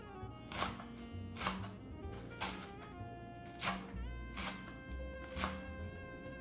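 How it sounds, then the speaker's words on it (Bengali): Fresh coriander leaves are chopped with a knife for a Bengali papaya mash, giving a steady run of about seven evenly spaced, fairly faint chops with no talk. "এখন করব জাস্ট এক মুঠো ধনে পাতা কুচি করে কেটে নেব"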